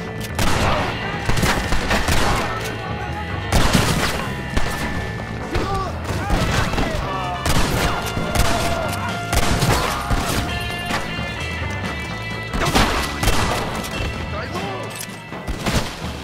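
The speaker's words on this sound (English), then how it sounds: "who's shooting me?" Gunfire in Red Dead Redemption, with dense overlapping shots and thumping impacts cracking repeatedly throughout amid busy game sound and some voices.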